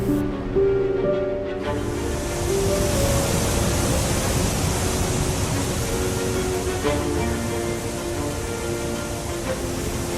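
A steady, dense roar of falling water, constant and broadband with no pauses, like a large waterfall in Argentine Patagonia heard from fairly close.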